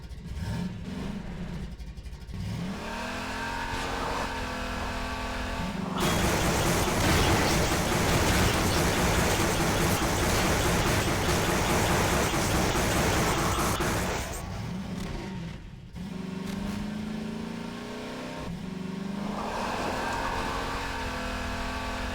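Car in the video game Half-Life 2 VR, the engine swelling and falling through revs with a harsh, noisy roar during a loud mid stretch, rough and close, with steadier tonal engine drone before and after.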